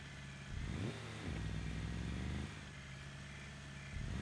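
A vehicle engine drones while driving in the game Scum, a steady mid-pitched hum with a few revving surges and gear-like pitch shifts, fairly quiet and with no voices.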